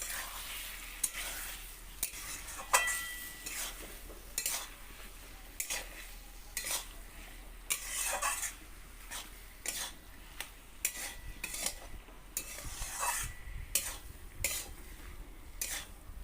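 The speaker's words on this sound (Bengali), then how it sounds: "এবারে ডিমটা আমি এই তরকারির মধ্যে দিয়ে দেবো" Egg being stirred into a simmering curry for posto dimer jhuro, with repeated scraping stirs of a utensil against the pan over a steady frying sizzle, close and moderately loud, and no talking.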